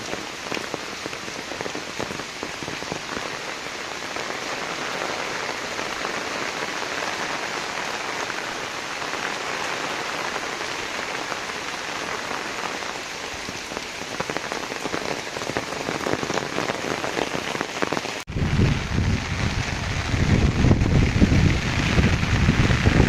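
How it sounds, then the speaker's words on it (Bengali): Heavy rain pours down steadily on a muddy road, a dense, close, continuous patter that rises a little louder near the end, with wind buffeting the microphone and no talk. "বৃষ্টি কমতেইছে না"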